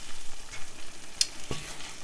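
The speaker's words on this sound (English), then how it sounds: "And then we want to bring this up to a simmer" Spicy-sweet sambal sauce simmering in a pan, a faint low bubbling with one bright clink near the middle and a soft knock just after, no voices.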